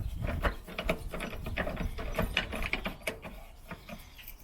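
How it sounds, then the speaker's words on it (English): Ratchet wrench clicking rapidly as it tightens the battery hold-down bracket on a Peugeot 107 / Toyota Aygo / Citroen C1 city car, a steady run of close, dry ratcheting ticks with no talking. "we can do that back up again with this ratchet"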